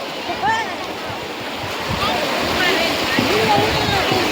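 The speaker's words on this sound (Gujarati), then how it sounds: "બાકી જોવા મોજા બાકી બહુ બહુ આવે હો" Sea waves wash and rumble continuously, growing louder partway through, while voices and chatter carry over the surf nearby.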